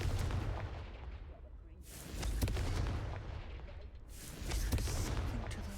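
Loud, roaring blasts from a Confringo fire spell in a Harry Potter video game: three heavy booming bursts, each rumbling and crackling before briefly fading, close and dominant.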